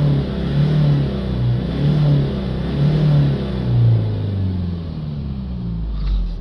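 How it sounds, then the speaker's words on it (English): A Ford Ranger diesel engine with an exhaust gas temperature sensor fault and DPF restriction revs steadily, its low rumble swelling and easing in a few repeated surges with no talk over it. "give it a few revs and see if we've got movement"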